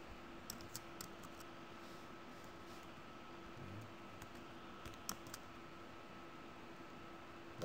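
Someone types a password on a computer keyboard: a handful of faint, sparse key clicks spread over several seconds against a quiet background hum of a fan.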